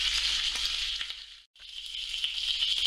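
A pigeon crown sits breast side down in a pan of hot butter and oil, sizzling with a steady, bright crackling hiss that cuts out for a split second midway and then resumes.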